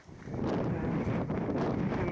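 Wind gusting steadily against the Mourne Wall, a dry-stone wall on the slopes of Slieve Donard, a constant loud roar buffeting the microphone with no break.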